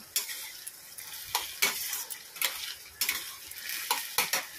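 Oil sizzles steadily as fenugreek seeds and bay leaves temper, broken by repeated sharp scraping and stirring clatters from a spoon against the pan.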